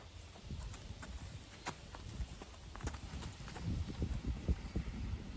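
A horse walks back and forth across a tarp, its hooves landing in irregular, soft thuds and crinkling taps at a moderate distance, with quiet outdoor background between steps.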